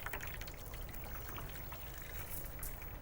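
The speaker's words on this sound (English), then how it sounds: "Then put water around the outside." Water poured around the outside of a creme brulee dish, a steady close trickle and gush of liquid running continuously without pause.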